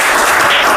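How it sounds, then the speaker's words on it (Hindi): Students clap for a classmate in a school classroom during a science lesson, a brief, dense burst of applause with no talking over it. "इनके लिए एक बार ताली बजा दीजिए आप लोग।"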